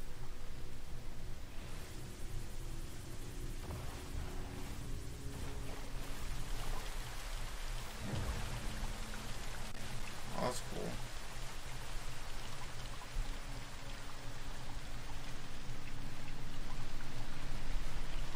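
Steady, loud rain from a storm in No Man's Sky, a dense hiss of falling drops that swells slightly toward the end, heard alone without talking.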